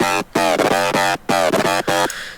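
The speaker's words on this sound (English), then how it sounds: "So hyper is first." Electro house FM lead synth from Serum with a hyper effect, loud, bright and buzzy, played as short choppy stabs with brief gaps between phrases.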